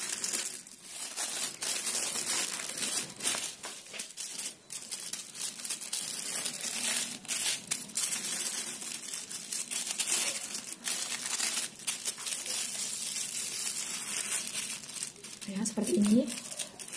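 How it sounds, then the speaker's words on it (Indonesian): A plastic sheet is handled and crinkled while preparing a two-ingredient chocolate snack, with intermittent rustles and crackles at close range under ongoing speech. "ini sudah saya siapkan plastik sebelumnya, lalu mau saya taruh di atasnya."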